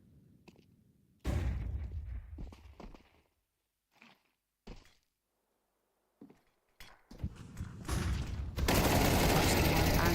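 Gunfire exchange in Counter-Strike 2 at an esports championship qualifier, with blind spraying through smoke: bursts of rapid automatic fire and scattered single shots, loud and close, broken by brief gaps, with a commentator talking over parts of it.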